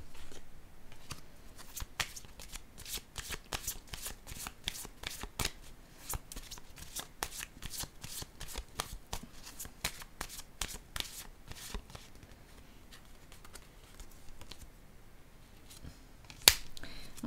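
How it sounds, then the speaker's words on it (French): A deck of cards being shuffled, rapid crisp riffling flutters repeating for many seconds in steady bursts, close and clear, ending with a sharp single snap near the end and no speech. "Je vais piger une carte sur le oui."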